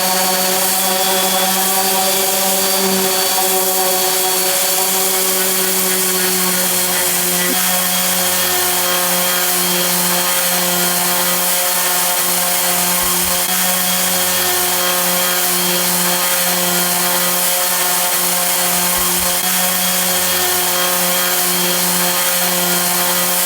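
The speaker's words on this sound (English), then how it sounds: "it's my job now to sand all this lot down" Power sander working on the platform of a London double-decker bus, a loud continuous whining drone with steady tonal hum and faint rubbing variations, unbroken throughout.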